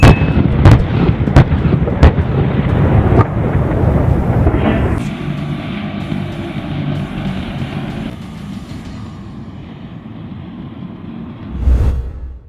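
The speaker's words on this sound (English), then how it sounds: "TOW anti-tank missile." TOW tube-launched, wire-guided anti-tank missile firing: a loud burst of heavy booming blasts up front, settling into a rushing, rumbling roar that fades, then a final deep thud near the end.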